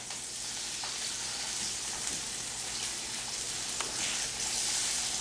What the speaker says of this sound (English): Let that sear for a minute or two.